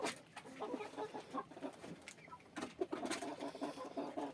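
Several Tinted Brown and Leghorn hens cluck and murmur in irregular bursts, fairly quiet, with a few sharper calls standing out and no one speaking.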